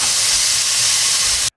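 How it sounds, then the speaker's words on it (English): Large burgers fry in a pan with a loud, steady sizzling hiss that runs unbroken, then cuts off abruptly. "So we're just frying up our burgers now."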